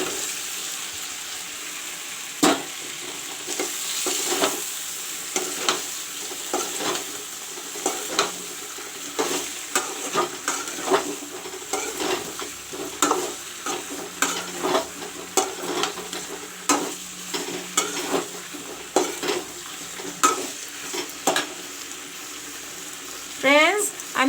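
Red pumpkin and potato pieces, already fried, sizzle steadily in browned masala in a pan for a vegetarian pumpkin dish. A spoon stirs and scrapes at them over and over, close and fairly loud, with no talking.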